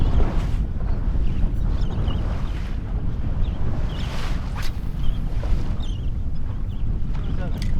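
A fishing boat idles on the open water off Cape Cod, a steady low engine rumble blended with heavy wind buffeting the microphone and faint lapping water, continuous and close throughout.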